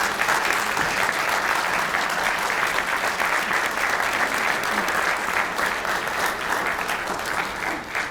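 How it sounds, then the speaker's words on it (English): Sustained, even applause from a large audience honoring the planning committee at the 2015 Robert R. Taylor postage stamp dedication ceremony, many hands clapping continuously at close range for several seconds. "if you give them a round of applause"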